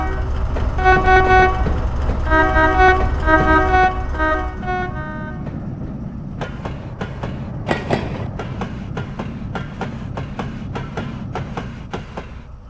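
A Class 70 diesel locomotive in Train Simulator Classic sounds several loud, sustained multi-tone horn blasts, then runs on with a steady low engine rumble and a regular clickety-clack of wheels over rail joints.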